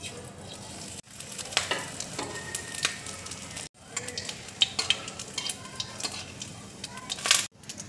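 Whole cumin seeds sizzle in hot oil in a wok, a steady crackling hiss broken by scraping stirs and a few brief drops in sound, heard close up.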